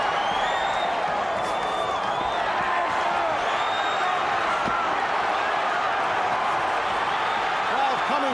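A large arena crowd at the Pazienza vs Haugen championship boxing bout roars as a steady wall of noise, with scattered whistles and shouts on top and an announcer's voice mixed into the din.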